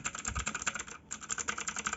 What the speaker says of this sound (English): So definitely very noisy keyboard